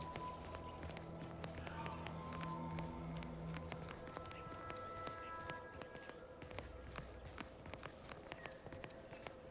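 Footsteps in The Outer Worlds 2 that slap like flip-flops, a continuous brisk series of quiet taps over low game ambience and a faint hum.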